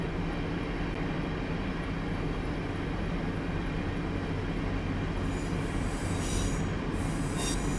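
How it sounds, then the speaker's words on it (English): A train rumbles steadily past in Train Simulator 2019, its continuous rolling roar filling the scene, with wheel squeals emerging toward the end. "I can hear a train in the background somewhere"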